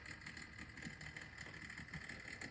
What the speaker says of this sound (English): the only soundtrack is its slightly noisy motor